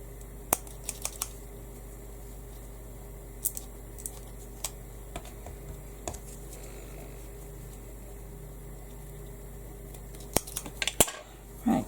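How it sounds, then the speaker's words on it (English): Scissors snip paper pips off a handmade card in a quiet craft setting, giving sparse, small, sharp clicks scattered across a faint steady hum, with a louder cluster of snips near the end. "I'm just going to snip the little pips off where they've been attached."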